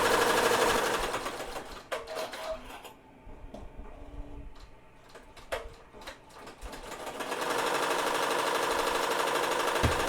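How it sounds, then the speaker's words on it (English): Embroidery machine stitching out an appliqué design on a shirt, a fast steady mechanical whirring and clatter that pauses briefly in the middle before resuming at full pace, loud and close. "I will be back once this finishes stitching out"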